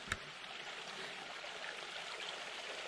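Water from a spring runs in a steady, soft stream, a constant gentle rush heard alone outdoors with one brief knock at the start.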